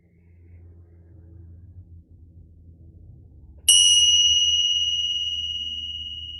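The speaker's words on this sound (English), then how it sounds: "I'm going to ring the bell 1 time at the beginning of practice" A meditation bell rings once to open a practice: a single clear, bright strike that hangs and slowly fades over a low background rumble.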